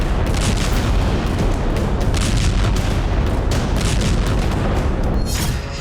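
Bombs exploding in Gaza in war news footage, a dense continuous roar of rumbling blasts and crackling bursts, loud and sustained throughout without any voices.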